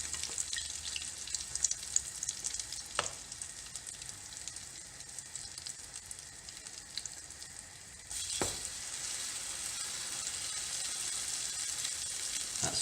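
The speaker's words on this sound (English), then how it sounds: "get your French toast straight in the pan" Soaked bread slices frying as French toast in a hot pan, giving a steady, hissing sizzle heard up close, with a few clinks and a louder burst of frying partway through.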